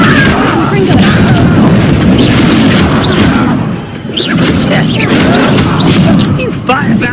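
In Hogwarts Legacy, the Confringo blasting spell sets off loud, dense booms and crashing blasts that fill the whole stretch, briefly dipping before more explosions follow, with in-game voices heard amid the din.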